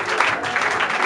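Guests applaud at an official wedding ceremony, a brief, steady burst of dense clapping from a crowd in the room.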